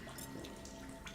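Fresh water in The Solus Project gurgles and splashes softly in a brief, quiet moment of drinking, a faint trickle close by with no talk.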